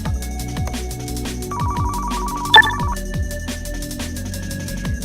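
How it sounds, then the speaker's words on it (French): A telephone rings in the video game Car Mechanic Simulator 2015: a steady electronic ringtone lasts about a second and a half over continuous background game music, with one brief sharp blip midway. "Vous entendez le téléphone qui sonne?"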